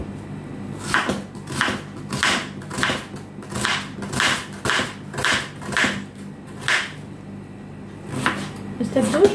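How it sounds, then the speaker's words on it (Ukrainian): Onion being cut with a knife on a board for baked vegetables with cheese: a steady run of about a dozen crisp, evenly spaced chops, close and clear, with a brief pause before the last few cuts. "нарізаємо цибулю"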